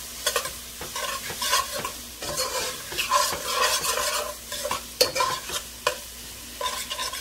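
Tomato paste stirred in a hot pan for arroz con gandules: a soft, continuous sizzle under irregular scraping and clinking spoon strokes against the pan, close and without talk.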